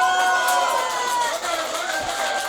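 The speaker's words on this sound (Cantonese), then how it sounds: "你哋啲掌聲唔夠，我飲唔晒㗎噃。" Party crowd at a Chinese New Year gathering cheering and shouting in a steady, dense wash of voices, with whoops and scattered claps running throughout at close range.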